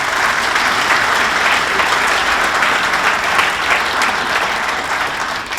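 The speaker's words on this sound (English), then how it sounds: "Please join me in giving all of these entities a big round of applause." Steady, loud applause from a seated audience at a sports hall of fame induction ceremony continues evenly throughout, dense and sustained with no break.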